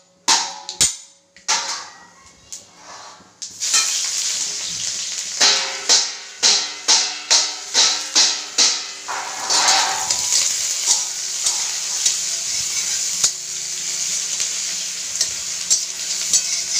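Onions sizzle loudly in a hot pan as the base for a fish curry, with a run of sharp stirring clicks and scrapes against the pan, then a steady, close frying hiss.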